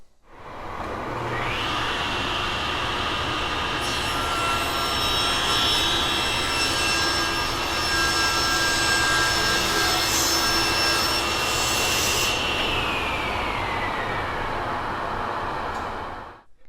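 A SawStop table saw rips through wood guided by feather boards, its blade howling loud and steady for about fifteen seconds, with a rising whine as the cut begins and a falling note as it ends.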